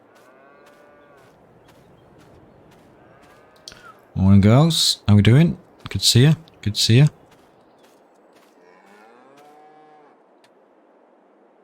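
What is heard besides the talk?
cows mooing in video game Farming Simulator 22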